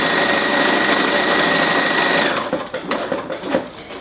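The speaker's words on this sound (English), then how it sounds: "I'm going to sew all the way to the edge." A sewing machine stitches quilt binding right to the edge of the fabric, a loud steady motor whir that stops after about two seconds, followed by quieter handling clicks and rustles.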